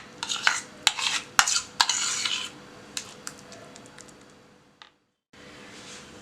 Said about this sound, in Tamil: இதை வந்து இப்போ நம்ம நல்லா க்ரீமியாக வந்து பீட் பண்ணணும்.